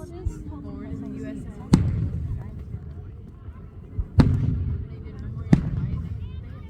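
Fireworks booming outdoors at a backyard display, three sharp, loud blasts spaced a couple of seconds apart over a steady rumble of background noise.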